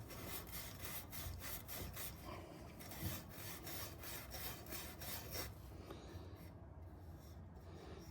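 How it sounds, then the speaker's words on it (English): A Scotch-Brite pad scrubs around the inside of a Kawasaki KFX400 ATV part, making steady, rhythmic rasping strokes up close, with the scrubbing easing off toward the end. "I'll just take a Scotch-Brite pad and just kind of go around it a few times so it's nice and clean"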